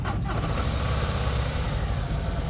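A Harley-Davidson motorcycle engine, a Road King or Ultra Limited compared against a Fat Boy, runs at a steady, loud idle with a deep, even, low throb that holds unbroken throughout, heard close up.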